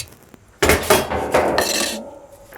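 A dish of bacon slides into a wood-fired oven with a sudden loud metallic clatter and scraping of cookware, followed by a short ringing rattle before it settles into quiet.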